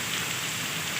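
Steady rain pours down at Triveni Mahadev temple, a dense, even hiss of drops on surfaces with no pauses and no voices.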